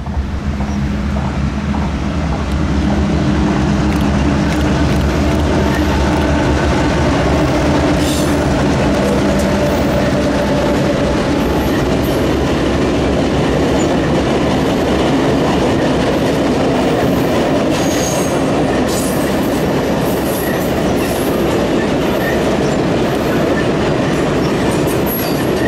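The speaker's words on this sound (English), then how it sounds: "KCS-1, labeled as the Michael Haverty, is seen leading the train over the creek." A Kansas City Southern freight train rumbles steadily across a bridge over a creek, wheels clacking rhythmically over the rails with occasional squeals, loud and close throughout.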